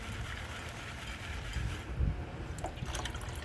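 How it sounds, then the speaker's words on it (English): Water and silt pour off a gold pan while panning paydirt, a soft continuous splashing trickle with a slightly stronger slosh midway, close and alone. "I'm just pouring off the silt."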